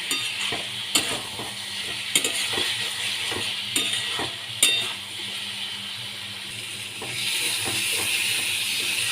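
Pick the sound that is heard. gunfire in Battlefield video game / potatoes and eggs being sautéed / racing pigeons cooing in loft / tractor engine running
potatoes and eggs being sautéed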